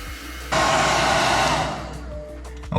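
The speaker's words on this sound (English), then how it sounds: "I'm going to use a hair dryer to speed up the process here." Hair dryer switching on at half a second and blowing steadily, loud and close, to dry bathtub chip repair filler, easing slightly toward the end.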